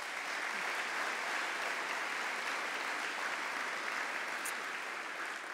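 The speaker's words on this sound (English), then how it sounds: "So please give them a big round of applause." Sustained applause from a large convention audience at an Optimist International centennial business session in Ottawa, a steady dense wash of clapping filling the hall without pause.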